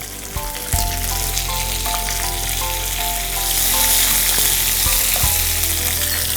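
Curry leaves and garlic sizzle and spit loudly in hot oil in a pan, a steady close frying hiss with a few sharp pops and stirring clinks throughout.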